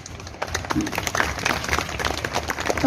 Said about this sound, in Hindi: तालियों से इनका अभिनंदन करें।